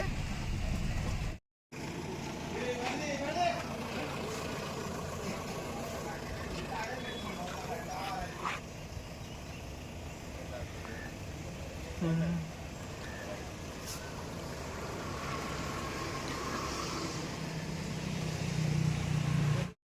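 Loaded trucks rumbling as they drive away, a steady low engine drone under nearby talking, louder near the end.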